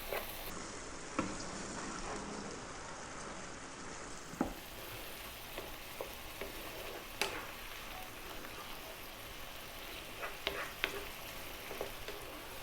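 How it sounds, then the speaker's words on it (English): Crushed tomatoes for a veggie pasta cook in a pan just above medium heat with a steady low sizzle and bubbling, and occasional sharp knocks of a utensil against the pan; no one speaks. "You want to kind of just cook those tomatoes out."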